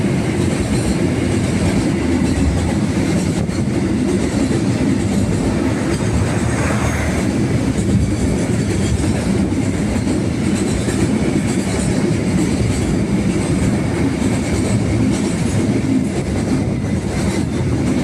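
A Kaligung passenger train on the Tegal to Semarang Poncol route rolls through Tegal station, a loud, steady roar of wheels and carriages with rhythmic clatter lasting throughout.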